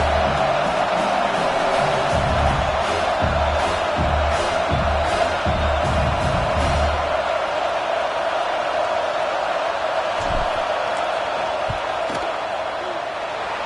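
A stadium crowd at a football game roars steadily during a field goal attempt, with loud, dense noise and scattered whoops and thumps throughout.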